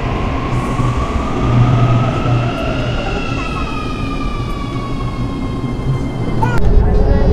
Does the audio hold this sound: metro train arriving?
yes